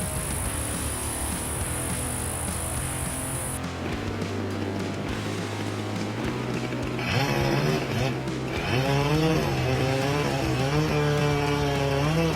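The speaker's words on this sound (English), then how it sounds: "The worker raises the chainsaw, carefully approaching the branch." A chainsaw runs steadily and then bites into a tree branch, its engine pitch rising and wavering as it cuts, a loud continuous drone with no talking.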